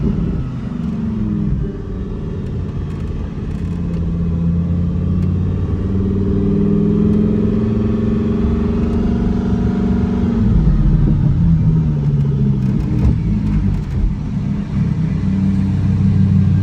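A Lamborghini engine rumbles and revs up and down close by after a downshift, its pitch rising and falling through several surges before settling into a steady drone.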